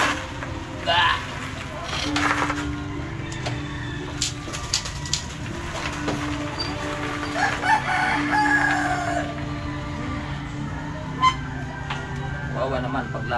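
Backyard chickens cluck while a rooster crows in rainy weather outdoors, close and moderately loud, with people talking nearby.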